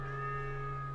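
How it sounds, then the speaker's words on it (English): A cat meows in the Zenless Zone Zero video game, one brief sustained tonal call that is fairly loud and heard alone. "Oh, there's a cat over there."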